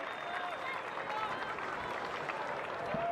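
Fans at the NFL Combine cheer and clap for a 40-yard dash, a dense steady wash of applause and crowd noise from an indoor venue, continuous throughout.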